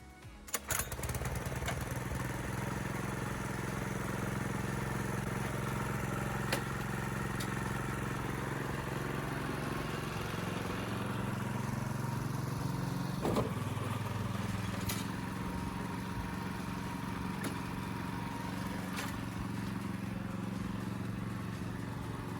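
Motorized lawn aerator with tines working into turf, its small engine droning steadily and loudly throughout, with occasional clattering knocks and a brief pitch dip near the middle as it turns.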